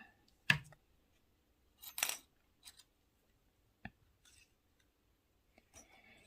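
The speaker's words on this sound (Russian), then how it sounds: "Итак, я обрезаю ниточку." Scissors snip crochet thread for an Easter egg: a few sharp, quiet clicks spaced over several seconds, alone in a near-silent room.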